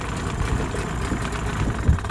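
A dinghy's outboard motor idles just after starting, a steady close low rumble with an uneven chugging pulse and no voices.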